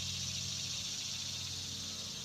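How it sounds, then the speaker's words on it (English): Loud cicadas buzz outdoors in a steady, high, unbroken drone, with a faint low background rumble beneath it. "My cicadas are loud."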